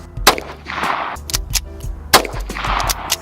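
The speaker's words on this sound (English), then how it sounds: "So now I have 5 shots of the ShotShells in here." A short-barrel pistol firing Federal .22LR shotshells at a soda jug seven yards away, several sharp loud cracks spaced unevenly across a few seconds, each with a brief metallic ring, close and without talk.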